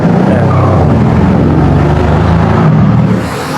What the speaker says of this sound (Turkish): Sadece şurada bayağı egzozlu bir araba var.